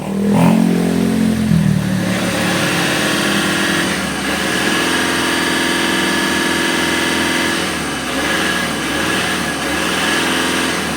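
A Volkswagen Polo engine with smoke coming from the dipstick runs steadily and revs up, its loud mechanical drone rising and holding close by with no talking.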